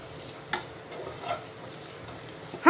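Capsicum and mixed vegetables are stirred in a frying pan as they fry, heard as a soft sizzle with a few faint scrapes and a louder clatter at the very end.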